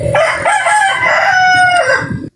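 A rooster crows loudly and close by in one long cock-a-doodle-doo lasting over two seconds, with no speech over it.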